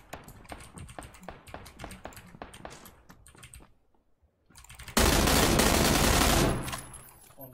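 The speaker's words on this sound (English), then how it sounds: "That was way too many shots for my liking" Rapid gunfire in PUBG, with a string of quick shots followed by a brief lull, then a loud sustained burst of close automatic fire that cuts off abruptly.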